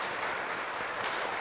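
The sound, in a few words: applause welcoming church members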